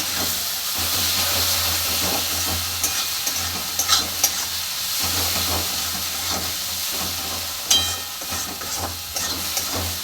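A spice paste with Kashmiri red chili powder fries and hisses steadily in a pan for fish curry while a spoon scrapes and knocks against the metal now and then, close and fairly loud.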